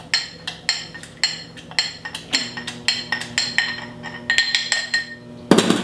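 Blackberries are muddled in a glass with a muddler, giving a run of sharp, close clinks and taps in an uneven rhythm, roughly a dozen strikes that grow busier toward the end, with no talking.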